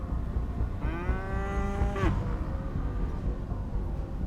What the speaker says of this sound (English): Cows, goats, sheep, these are their wealth.